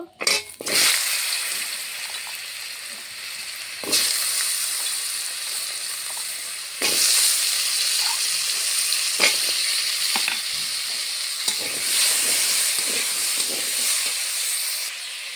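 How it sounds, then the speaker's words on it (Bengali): Potatoes fry in hot oil left in the pan after the pointed gourd, giving a bright hissing sizzle that surges loudly at the start and again midway, then bubbles on steadily with small clicks and no talk. "এই তেলে এখন আলু ভেজে নেব"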